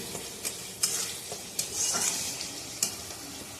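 Spice paste for a fish curry sizzles steadily in hot oil, with occasional scraping stirs of a spoon in the pan, fairly quiet and close.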